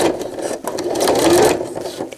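A sewing machine back-stitches velcro onto a cloth diaper in a close, loud mechanical whirr that briefly speeds up, pauses, then runs again, with no one talking.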